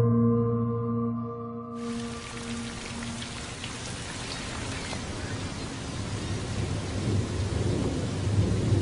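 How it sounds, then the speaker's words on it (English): Heavy rain pours steadily on Ventotene island with a deep rumble of thunder and gusting wind, the downpour swelling louder toward the end as a low music tone fades out at the start. "the wind and rain have not ceased"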